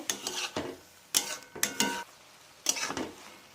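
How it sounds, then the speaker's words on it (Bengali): A spoon scraping and stirring onion stalk and sweet potato curry in a metal pan, in several distinct bursts of clattering strokes, close up and without talk. "আমি আবার একটু জল দেব আবারও ভালো করে নাড়ব"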